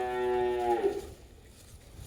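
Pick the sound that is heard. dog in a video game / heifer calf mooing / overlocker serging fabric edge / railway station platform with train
heifer calf mooing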